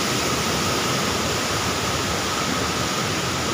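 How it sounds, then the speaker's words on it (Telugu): A waterfall near Palamaneru in Chittoor roars as a steady, dense broadband rush of falling water, continuous and fairly loud with no voices over it. "అద్భుతమైన వాటర్ ఫాల్స్,"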